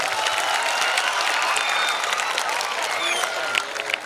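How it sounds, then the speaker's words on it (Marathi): A school gathering audience bursts into loud, dense applause, many hands clapping continuously and evenly from start to finish with a slight swell near the end. "ह्याच्यासाठी एका जोरदार टाळ्या वाजवा"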